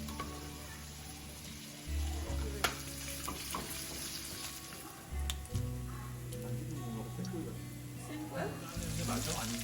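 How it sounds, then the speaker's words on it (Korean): Soft sizzling and crackling of garlic frying in a pan for carbonara, with occasional clinks of a utensil stirring, heard quietly beneath a low hum. "먼저 마늘을 넣고 볶으면서 까보나라를 만들어 보겠습니다."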